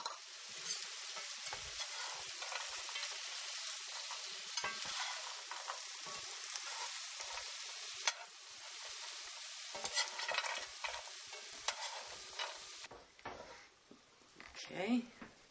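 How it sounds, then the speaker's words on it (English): Toasted almonds being stirred into cooked Brussels sprouts with lime and chili oil, a continuous soft sizzling rustle with scattered utensil scrapes, close and quiet, fading near the end. "I'm going to mix in my toasted almonds"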